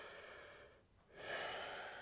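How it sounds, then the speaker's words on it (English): Soft, close breaths demonstrate shallow chest breathing, a faint airy exhale fading out, then a quick, slightly louder inhale, with no talk. "So breathing in your chest is like"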